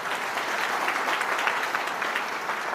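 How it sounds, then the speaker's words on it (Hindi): An audience at an education seminar gives steady, dense clapping to welcome a student, sustained and even throughout. "जोरदार तालियों से उनका स्वागत कीजिए"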